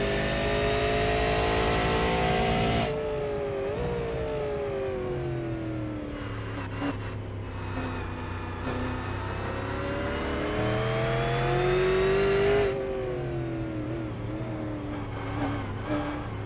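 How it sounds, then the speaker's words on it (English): A simulated race car on Okayama International Circuit runs at near full throttle, its engine whine steady and close, pitch dipping and climbing through corners and gear changes, with a brief drop around three seconds in. "the difference in the sound of the throttle is crazy, because he's like matting it, middle of the corner."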